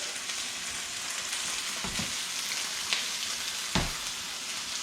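Triggerfish fillets fry in butter in a skillet with an even, close, crackling sizzle that runs throughout, plus a couple of dull knocks from the pan. No one speaks.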